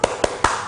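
Three sharp hand claps spaced about a fifth of a second apart in a classroom 'tepuk semangat' clapping rhythm, close and fairly loud, with no voice over them.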